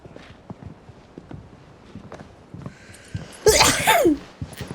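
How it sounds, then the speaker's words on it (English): A character in Final Fantasy 16 lets out one loud, sudden sneeze near the end, after a stretch of soft footsteps and quiet clip-clopping in the background. "I knew there was a sneeze coming up."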